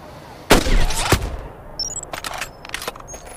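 A single sniper rifle shot in the mobile game Hitman Sniper cracks out loud and close, trailing into a short decay with a few small electronic interface chirps afterward.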